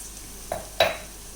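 Turmeric and chili powder stirred in a pan for an egg masala curry: two brief scraping strokes, the second louder, then quiet.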